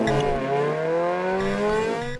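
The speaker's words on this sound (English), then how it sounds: "I'm here to listen to something much more exciting as far as I'm concerned: motorcycle exhausts." An Akrapovič motorcycle exhaust, recorded at the Akrapovič factory in Slovenia, revving and holding a rising, throaty engine note, loud and steady, then dropping off at the end.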